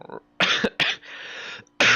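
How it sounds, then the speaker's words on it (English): A race commentator coughs in several harsh, loud bursts close to the microphone during a sim-racing Formula event broadcast from Abu Dhabi. "I'm terribly sorry for my coughing"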